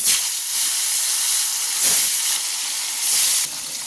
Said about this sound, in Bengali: তেলটি ভালো করে গরম হয়ে গেলে সামান্য একটু লবণ ছিটিয়ে দিব। এখন একে একে মাছগুলো দিয়ে দেব।